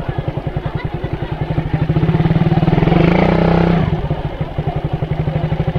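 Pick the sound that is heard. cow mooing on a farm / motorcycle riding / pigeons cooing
motorcycle riding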